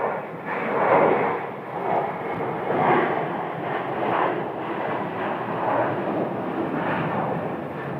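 Jet engines idling as an aircraft is pushed back by an enclosed pushback tug at Phoenix Sky Harbor airport, a steady muffled roar with gentle swells, heard from some distance with no talking.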